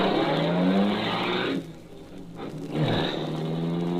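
Car swinging around in a tight turn with tires squealing, a radio drama sound effect: loud close engine roar, a drop as it slows, then a rising squeal and revving that carries on to the end.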